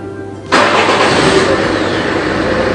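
A Citroën Xsara HDI diesel engine cranks and catches abruptly, then settles into a loud, close, steady clattering idle.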